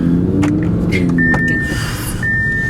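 An Audi R8 V10 Plus sports car's V10 engine hums steadily close by, with a high whine running through it and a few brief mechanical clicks, no talking.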